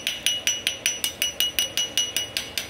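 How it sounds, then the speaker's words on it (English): A hammer peens a weld on a cast iron motor block, about thirteen sharp metallic strikes in an even, fast rhythm, close and loud with no talking. "I'm gonna peen it just a little bit."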